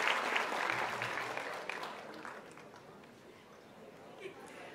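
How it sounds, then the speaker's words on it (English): A crowd at the Young Bhartiya Foundation launch event welcomes a young woman onstage with applause, a moderate wash of clapping that starts fairly strong and gradually fades, with faint voices underneath. "Let's also welcome her with a round of applause"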